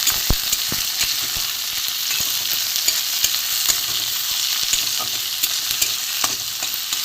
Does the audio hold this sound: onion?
yes